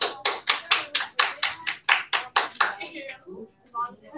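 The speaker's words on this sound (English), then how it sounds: "Everybody clap your hands." A group claps in unison during a classroom lesson, about a dozen sharp, evenly spaced claps in a steady rhythm before they stop, followed by a voice speaking.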